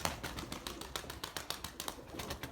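A pigeon during a flying session, with soft repeated coos and flutters, faint and close, against steady low background noise.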